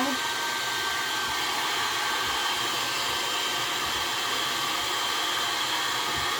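A heat gun blows a steady, unbroken hiss while warming a vinyl hood scoop overlay decal on a Toyota Tacoma or 4Runner, close and continuous throughout.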